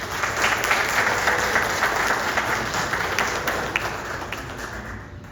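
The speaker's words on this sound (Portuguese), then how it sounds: "Quero pedir uma salva de palmas para ambos." An audience at a book and life-work presentation event gives sustained applause, a dense, steady wash of clapping that stays strong and fades slightly toward the end.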